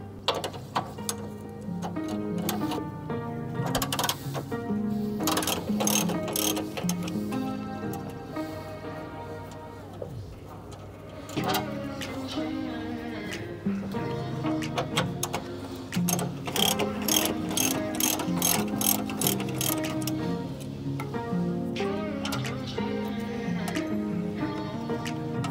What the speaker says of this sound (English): Our next step is going to be removing these two 15 millimeter bolts that are holding these rods on